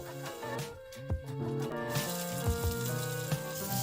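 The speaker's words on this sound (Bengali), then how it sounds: "এবার এর মধ্যে আমি কোচানো পেঁয়াজটা দিয়ে দেব" Chopped onion hits hot oil already fried with nigella seeds and dried red chilli for a Rajshahi shapla dal, breaking into a bright, steady sizzle midway through, heard close under continuous background music.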